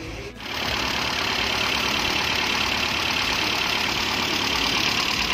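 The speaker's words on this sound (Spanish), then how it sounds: "Está recién encendido el vehículo y está frío." A freshly started, still-cold car engine idles close by with a loud, steady rough drone and a faint knocking texture, continuous for about five seconds after a brief dip at the start.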